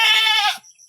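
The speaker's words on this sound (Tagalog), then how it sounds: "Maingay yung kambing." A goat on a small goat farm lets out one loud, close, nasal bleat lasting about half a second, then falls quiet.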